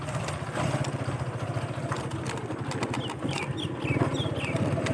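A motorcycle is ridden along an outdoor road in Kashmir, its engine putting out a rapid, steady low thrum close by, with wind noise and a few brief high chirps over it.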